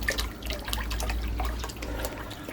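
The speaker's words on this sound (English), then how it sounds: "You hear the water running?" A pond pump circulates water through a pressure filter in a wheelie bin setup, giving a steady close trickle and splash of running water over a low hum.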